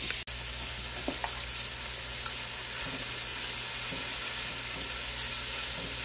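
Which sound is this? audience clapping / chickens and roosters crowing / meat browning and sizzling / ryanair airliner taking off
meat browning and sizzling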